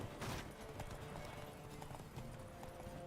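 A horse gallops in The Witcher 3 video game, its hooves drumming in a steady, fast clip-clop rhythm over continuous background game sound for a few seconds.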